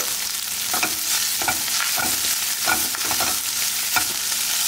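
Finely chopped green chillies, ginger and garlic sauté with cumin in oil in a pan, a dense steady sizzle punctuated by regular scraping strokes of stirring, close and loud, no one speaking.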